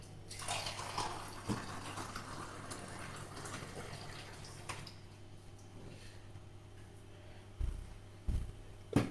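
Water pours steadily from a tap into a vessel, a soft continuous gush that tapers off, followed by a few louder knocks and clatters near the end.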